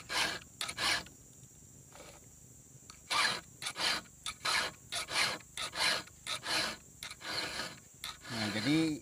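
A round file is pushed across the teeth of a chainsaw chain to sharpen it, with the file twisted at the end of each stroke. Repeated short rasping strokes come in a steady, close rhythm with brief gaps between.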